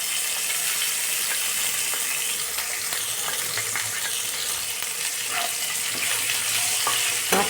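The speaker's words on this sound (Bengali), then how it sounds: "এবার আমি কুচিয়ে রাখা পেঁয়াজটা দিয়ে দেবো।" Chopped onion goes into hot oil with fried dry red chillies and nigella seeds in a pan for a pabda fish curry, making a continuous close sizzle with occasional clicks and scrapes of stirring throughout.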